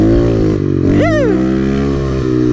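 Kawasaki KLX 110 dirt bike engine revving hard in second gear on a rutted track, a loud, close buzzing drone with a sharp pitch swoop of revs in the middle before it settles back to a steady pull.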